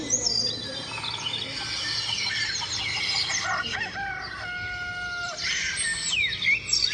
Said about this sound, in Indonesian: ayam makan. Ayamnya